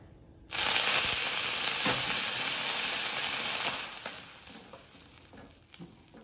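Oil bursts into a bright, hissing sizzle on a hot iron tawa. The sizzle holds strong and steady for a few seconds, then settles into a quieter crackle, with a couple of faint clicks near the end.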